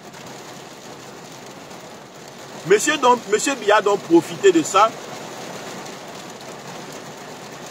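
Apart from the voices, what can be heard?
heavy rain falling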